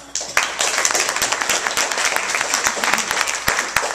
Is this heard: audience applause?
yes